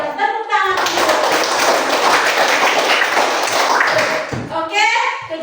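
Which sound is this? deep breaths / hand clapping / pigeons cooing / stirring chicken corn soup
hand clapping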